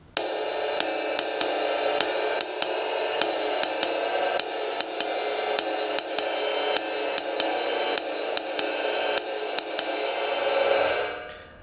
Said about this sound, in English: You're going to play it on your ride cymbal.